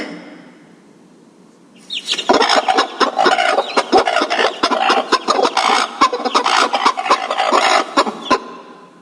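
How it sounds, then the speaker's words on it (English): A hen clucks and squawks in quick, uneven bursts, loud and close, after a brief quiet start. "Hen."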